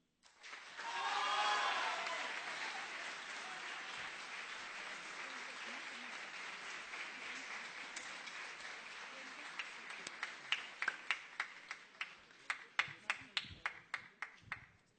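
A crowd at a presidential debate final bursts into sustained applause that swells loud at first, holds as a dense wash of clapping, then thins into scattered individual claps toward the end.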